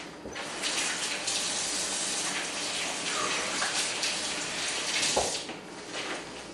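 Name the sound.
washing hands under running tap water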